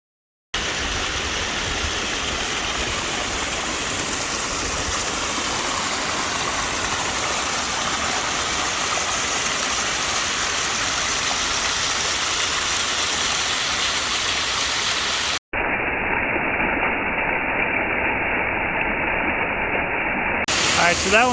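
A raging creek near Seydisfjordur, Iceland, roars as a loud, continuous broadband rush close by, holding steady throughout with only a short break partway.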